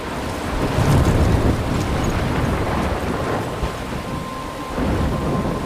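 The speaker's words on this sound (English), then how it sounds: "I'm trapped in a storm?" Thunderstorm in the video game Life is Strange, heavy steady rain and rolling rumbles of thunder filling the space, loud and continuous with no voices.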